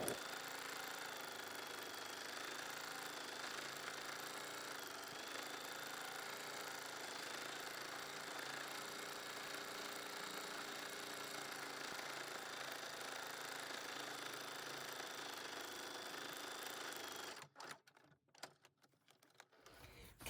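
Sewing machine stitching through textured paper, a steady fast mechanical whirring that runs continuously for most of the time and then stops, leaving a few faint scattered clicks and handling noises near the end.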